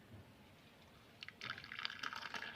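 Kashmiri pink tea pours into a cup with a short, faint liquid trickle and splash after a quiet start, close by and with no speech.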